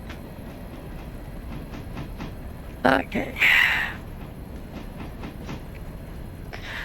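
Train switching railroad cars at an interchange in Railroader rolls along with rhythmic clicking, then a brief loud hiss and clank midway, and a voice speaks briefly.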